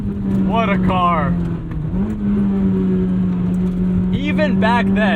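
Steady, loud engine drone from a 1997 Honda Civic Type R EK9, its pitch dipping briefly then holding high, with short bright chirping bursts over it near the start and end.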